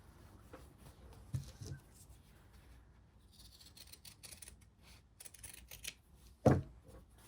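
Scissors snip through fabric while a huswif sewing case is being made, giving a few quiet, sparse cuts and a louder, crisper snip near the end against soft handling noise.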